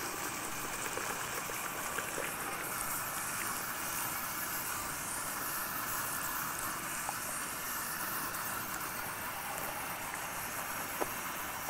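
Running tap water hisses steadily throughout a salon hair wash, a continuous even flow with no talk.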